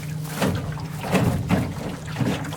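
A small Grumman sportboat on the water, driven by a solar-powered electric motor at moderate speed, gives a close, low rumbling hum with rhythmic sloshing and lapping of water against the hull.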